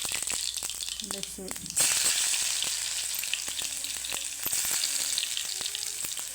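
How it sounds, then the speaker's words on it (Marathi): Cumin and mustard seeds sizzle in hot oil for besan pithla, a dense crackling hiss with scattered pops that jumps louder partway through and carries on steadily. A voice is briefly heard near the start. "आपलं तेल गरम झालेलं आहे चांगलं जिरे नाही आपण"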